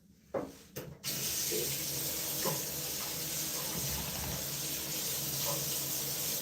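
Water gushes steadily from a faucet into a grooming tub, a loud, continuous hiss and splash after a few brief knocks at the start, with no talk.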